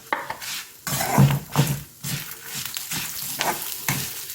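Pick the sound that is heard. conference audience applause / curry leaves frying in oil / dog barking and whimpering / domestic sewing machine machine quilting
curry leaves frying in oil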